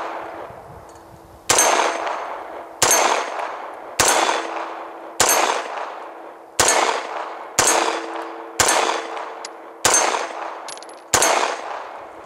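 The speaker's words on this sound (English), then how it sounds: "we'll do 10 more quick shots with the USP Tactical" Nine rapid pistol shots from a USP Tactical fire roughly one per second, each a loud, sharp crack with a metallic ringing tail, continuing steadily without any talk.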